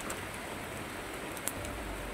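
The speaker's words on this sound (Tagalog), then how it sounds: "Grabe yung ulan" A dense, hissing wash of rain falls steadily, with a faint patter and one sharper drop standing out.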